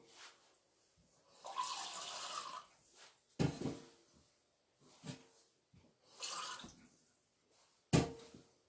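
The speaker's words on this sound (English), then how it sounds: "So let me get the 1/2 cup of water." Tap water running in a kitchen while measuring half a cup for lemon meringue cupcakes: two longer gushes of flow separated by sharp knocks and clatter of a cup against the sink, with quiet pauses between.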